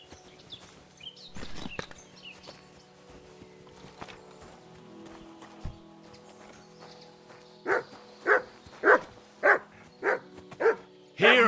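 A dog in Kingdom Come Deliverance II barks in a quick series of sharp, evenly spaced woofs near the end, after quieter game ambience and scattered thuds.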